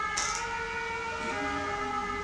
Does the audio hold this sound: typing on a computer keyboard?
no